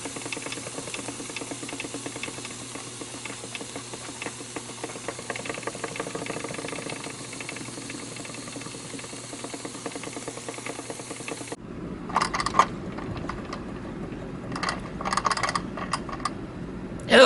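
Wilesco D16 EL electrically heated live steam engine running, a steady hissing, rapid mechanical chuffing that continues evenly, then turns rougher and more broken with clattering bursts near the end.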